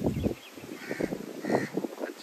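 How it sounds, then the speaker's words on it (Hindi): Caws from a crow at a seaside garden with a swing, repeated harsh calls in a loose rhythm, fairly close and clear over faint outdoor background. "यहाँ पे एक कौवा भी आया हुआ है"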